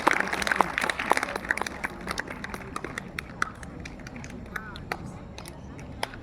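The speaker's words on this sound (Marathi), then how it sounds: "टाळ्या वाजवत राहा थोडं." An audience claps at a speech competition held for the Mahatma Phule and Ambedkar Jayanti celebration. The applause comes as scattered, sharp claps, denser at first and then thinning to occasional claps over a murmuring hall.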